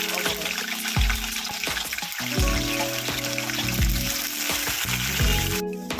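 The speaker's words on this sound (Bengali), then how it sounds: "এইভাবে আমি একে একে এবারে বিনস, এই গাজর আর বিনসটাও ভেজে নেবো।" Carrots and beans fry in hot oil while khichuri is being cooked, giving a steady, close sizzle that runs throughout with a few soft clinks and stirring bumps.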